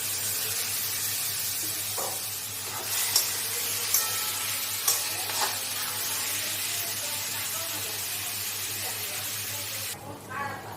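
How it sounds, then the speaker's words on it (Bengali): Spice masala with turmeric and tomato frying in a pan, a continuous close sizzle with occasional stirring scrapes and small clatters, ending in a brief louder burst of spitting. "হলুদ দিয়ে এটাকে আমি ভালো করে কষিয়ে নেব মশলাটাকে"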